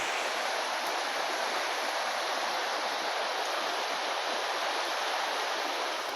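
The Río Azul river flows in a steady, unbroken rush of water, close and even throughout with no other sounds on top.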